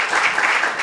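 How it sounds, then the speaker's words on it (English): Audience applause at a public health conversation event with Governor Josh Green: a dense, steady wash of many hands clapping, fairly loud and continuous through the brief moment, with no voices standing out. "So a round of applause again for Dr. Rochelle Walensky, Governor Josh Green."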